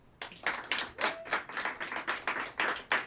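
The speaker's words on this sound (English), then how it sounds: "And audience, it is now your turn to show your appreciation. Please applaud." A small audience at a Denver ballot issue forum on abortion-rights Amendment 79 claps in sparse, distinct bursts, individual hand claps audible in an uneven rhythm, fairly quiet and with no talking over them.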